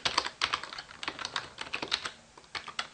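Computer keyboard typed on while entering debugger commands, rapid close clicking keystrokes in quick clusters with brief pauses between words.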